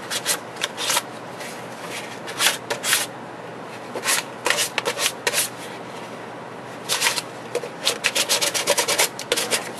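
Sandpaper rubs in quick bursts across a surface being roughened for a faux wood grain finish with wood stain. The strokes are close and gritty, come in rhythmic clusters with brief pauses, and no one talks.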